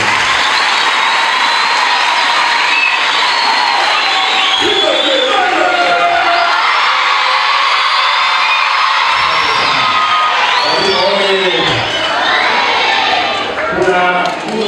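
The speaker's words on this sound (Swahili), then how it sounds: "Naomba tuwapigie makofi mengi sana hao walimu." An audience at a public gathering cheers and shouts for teachers, a loud sustained crowd roar with some high children's voices, while someone speaks over a loudspeaker.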